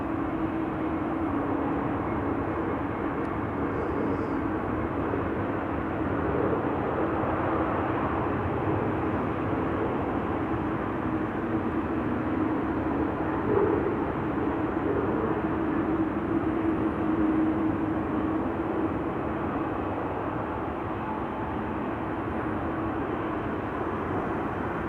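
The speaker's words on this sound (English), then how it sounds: "KLM flight 1174, arrived from Stavanger, Embraer 175, breakaway landing to runway 24" A KLM Embraer 175 airliner lands on runway 24 at Amsterdam Schiphol, its steady engine roar and rush holding at an even, moderately loud level from start to finish, with no voices.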